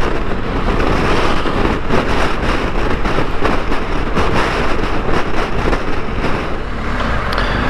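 Wind along the SS 113 road between Sciacca and Palermo, a loud, constant rush with rapid buffeting flutters throughout.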